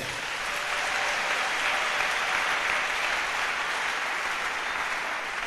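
A church congregation claps together in sustained, dense applause during a sermon, a steady even roar of hands with no gaps and no voices rising above it.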